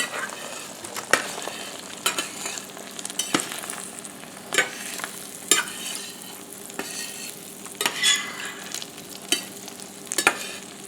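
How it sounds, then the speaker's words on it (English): Beaten eggs sizzle in a hot frying pan while a spatula pushes them toward the center to scramble them, giving steady frying hiss broken by repeated scraping strokes, with no talking. "I let it set for just a minute or so, and then I start pushing the egg to the center."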